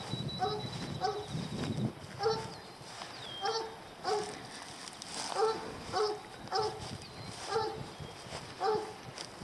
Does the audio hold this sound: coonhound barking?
yes